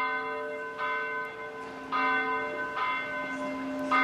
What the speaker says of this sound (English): The bells are another important feature of an abbey.